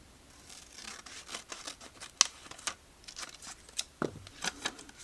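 Scissors snip through a regular post-it note in a series of short, crisp, quiet cuts close by, with no talking.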